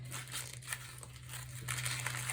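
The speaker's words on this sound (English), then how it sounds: "you're going to crumple it up" A sheet of paper is crumpled into a ball, a quiet run of crinkling crackles in irregular bursts over a low steady hum.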